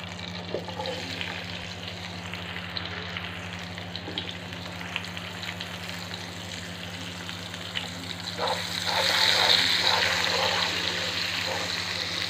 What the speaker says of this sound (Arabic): دلوقتي انا هنزل بقى بالبصل